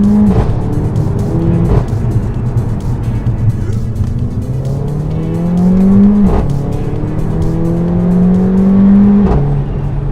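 A Mercedes A45 AMG engine revs repeatedly up and down, loud and close, with pitch climbing through several gears and sharp breaks between shifts.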